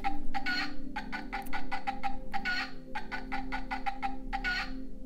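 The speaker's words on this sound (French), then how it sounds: "Le chant du coq." Nearby chickens and a rooster make repeated short, harsh calls in quick rhythmic bursts over a constant low background hum, fairly close, with no voices.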